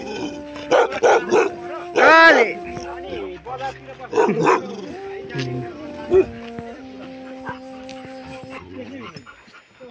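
Several dogs bark, yip and whimper at a dog centre in Namche Bazaar, with loud close bursts in the first half and people talking over them.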